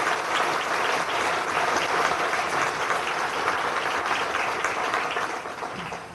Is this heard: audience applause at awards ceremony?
yes